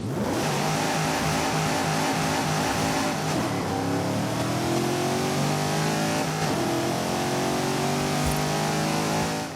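Aston Martin DBS engine in Forza Horizon 5, revving loudly and continuously with rising and falling harmonic sweeps as the revs climb and drop, close and alone with no talk.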